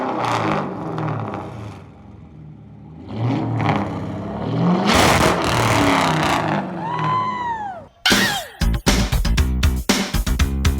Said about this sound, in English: I want you to rev it though. I want to see how it sounds before I put them on.